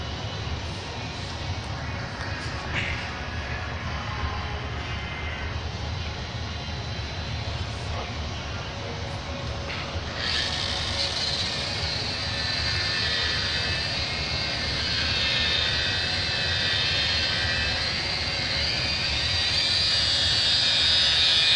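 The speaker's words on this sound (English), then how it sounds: "Using an 8-inch turbo buff pad, compound pad." A polisher fitted with an 8-inch Turbobuff compound pad buffs steadily with a loud, continuous whir that grows brighter and louder about halfway through.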